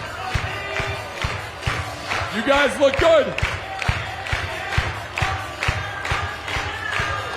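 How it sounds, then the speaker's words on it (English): A stadium crowd at the Banana Ball World Tour opening night claps and cheers in rhythm, with loud whoops and a voice talking over the noise on a public address system. "Let's get those hands clapping."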